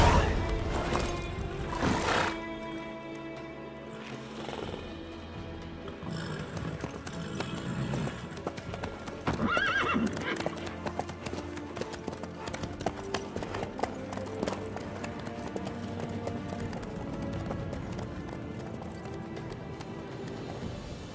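Horse hooves clip-clopping steadily in the video game Witcher 3, a continuous rhythmic trot heard under a dense layer of game music and ambience.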